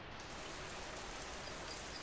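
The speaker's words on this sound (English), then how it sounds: "Now it is raining." Steady rain in the video game Schedule 1, a dense, even hiss of falling drops filling the whole moment without pause, with no voices.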